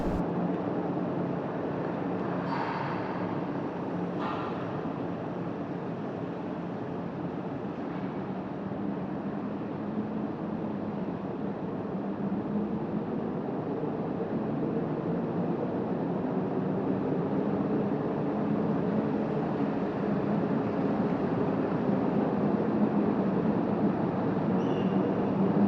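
Inside the car ferry Peri 7, a steady low engine rumble and droning hull noise fill the space continuously, with no voices and only faint occasional knocks.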